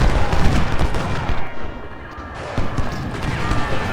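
Civil War video game battle with dense overlapping musket gunfire and booming artillery, loud and continuous with crashing volleys rising and falling throughout.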